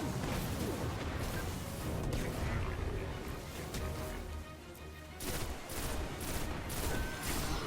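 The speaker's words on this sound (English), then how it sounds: "See, that's the power of the shotgun right there." Shotgun blasts in the game Destiny, a dense run of heavy booming shots and crashing impacts amid continuous combat noise, fairly loud and close, with faint voices mixed in.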